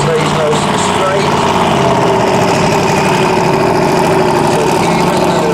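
A tiny no-prep drag race car sits at the start line in testing mode, its engine giving a loud, steady, buzzing drone with slight surges as the throttle is gently blipped.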